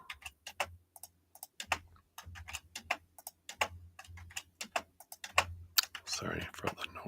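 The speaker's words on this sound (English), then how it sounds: "Loud keyboard." Quick, loud clacking keystrokes on a computer keyboard come in irregular bursts, close to the microphone, followed by a brief rustle at the end.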